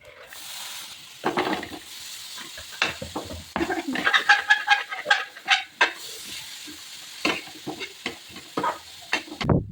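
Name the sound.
onion frying in oil for paneer bhurji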